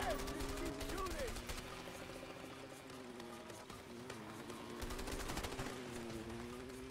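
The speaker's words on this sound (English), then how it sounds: "Just keep shooting!" Gunfire in the video game A Way Out during a jungle fight, bursts of rapid shots under shouting voices and game music, fairly faint and continuous throughout.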